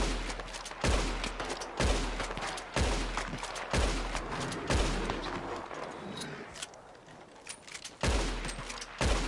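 Repeated heavy gunshots from a firearm in Red Dead Redemption 2, loud booming reports spaced about a second apart with a brief lull before one last shot.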